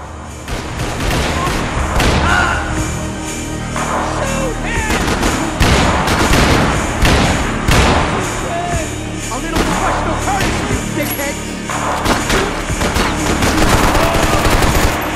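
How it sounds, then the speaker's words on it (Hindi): Dense, loud gunfire from the video game Max Payne 3: rapid bursts and single shots overlapping with booms and impacts throughout, with occasional voices underneath. "बहुत गोलियां बर्बाद कर दी इसने।"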